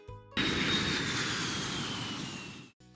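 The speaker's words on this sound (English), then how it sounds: "The plane is about to take off." Airplane engines roar at takeoff, a steady, loud jet-like rush with a high whine that starts abruptly, holds for over two seconds, then cuts off.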